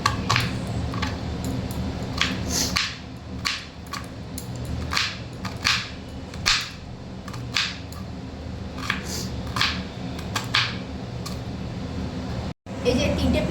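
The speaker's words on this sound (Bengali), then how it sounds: "এবারে আমি তিনটে পেঁয়াজকে কুচি কুচি করে কেটে নিচ্ছি" A kitchen knife finely chopping three onions for a Bengali mutton curry: a run of sharp, irregular taps on a board, close by, under continuous talking.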